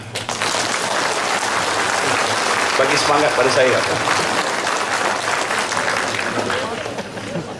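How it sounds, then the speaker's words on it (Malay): Audience clapping at a Malaysian political rally with a deputy prime minister speaking, a dense continuous wash of applause and crowd noise, with a voice speaking over it. "Tepuk tangan lah."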